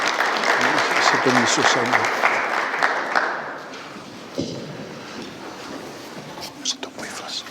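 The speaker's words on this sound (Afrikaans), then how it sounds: "Kom ons gee vir Emma hande klap." A church congregation applauds during a sermon, a dense wash of clapping that starts strong and fades away after a few seconds, leaving scattered claps and murmuring while someone speaks briefly over it.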